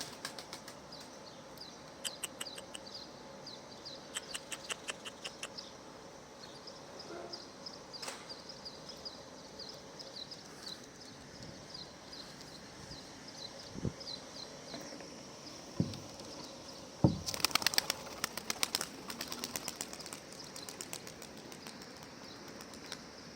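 A two-year-old smoky-coloured female pigeon takes off during a training flight, giving a burst of loud wing flapping near the middle, with quieter flapping and outdoor ambience around it.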